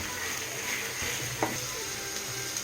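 Cabbage and capsicum for egg fried rice frying and being stirred in a pan, a steady close sizzle with a soft scrape of the stirring spoon partway through.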